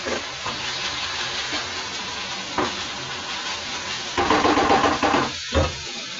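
Ground coriander and cumin fry in a pan for Moghlai paratha, a steady sizzling hiss with scraping stir strokes that grows louder and busier near the end.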